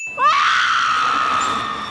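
A mother screams in terror over her daughter's attack in The Lost World: Jurassic Park, a single loud, sustained high scream lasting well over a second with no other sound around it.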